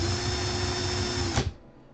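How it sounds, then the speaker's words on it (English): A cordless power drill whirs steadily in reverse while pulling a coil wire out during coil building, then cuts off abruptly and leaves a faint room hiss. "I'm going to pull it, put my drill in reverse."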